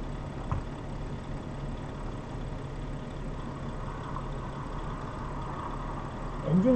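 Truck engine idling in Euro Truck Simulator 2, a steady low rumble held evenly throughout with little variation and a brief bump near the end.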